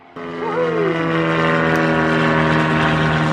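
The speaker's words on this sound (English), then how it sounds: "that engine sounded so smooth, so clean" A Piper Cherokee 180 single-engine propeller plane on takeoff, its engine droning loudly and steadily close by with a strong propeller hum that swells in the first moments and then holds.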